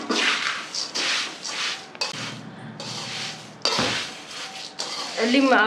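A spoon scrapes and clatters against a pot while sugar is mixed into cooled dagdi poha chivda, in uneven bursts of clinking and rattling, with someone speaking between them.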